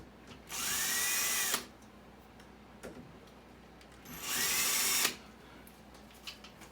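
A power driver backs out two doorknob bolts in two separate whining runs of about a second each, with small clicks and handling noises between them.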